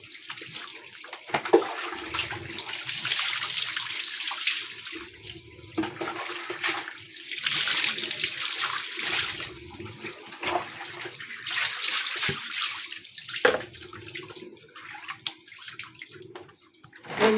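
Water runs and splashes from a tap while a pet dog is bathed, a fairly close, uneven gush that surges and dips with brief clatters, no voices.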